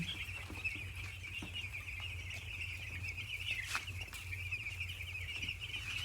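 Dense, nonstop high peeping from many five-day-old poultry chicks on a farm, steady and close, with a low hum running underneath.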